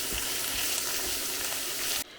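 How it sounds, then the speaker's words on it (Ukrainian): Steady, loud sizzling of minced meat and mushrooms frying in a pan, with faint stirring, cutting off abruptly near the end. "Все перемішаю та підсмажу з грибочками ще хвилинки 2-3."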